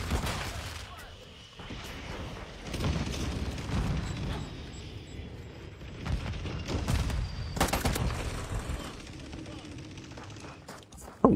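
Sustained gunfire rips out on command, a dense fusillade of overlapping shots rolling on for several seconds, loud and close.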